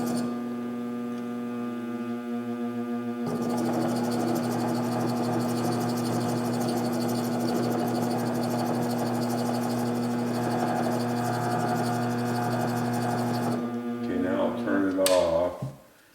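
A rotary lap cutting a 500-year-old Venetian glass bead makes a steady machine whir with a constant hum and gritty grinding texture throughout, loud and close, ending with a brief rattle.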